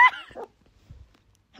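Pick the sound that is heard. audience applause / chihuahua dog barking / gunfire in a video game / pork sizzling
chihuahua dog barking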